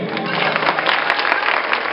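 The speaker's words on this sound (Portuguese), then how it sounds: "Cadê as palmas, gente?" Audience applause at a quadrilha dance festival competition in Brazil, a short burst of lively crowd clapping, loud and close, with a slightly muffled, band-limited tone.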